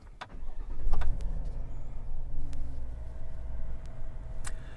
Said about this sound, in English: we're basically just going to go ahead and start the truck